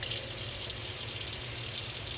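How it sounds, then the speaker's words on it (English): Water runs steadily from a sink faucet over an inking plate and brayer being rinsed, a continuous close hiss with a low hum underneath, no voices. "Running water over your inking plate and brayer"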